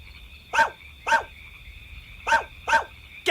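Frog croaking in four or five short, loud bursts spaced irregularly apart, standing out from a steady background hum.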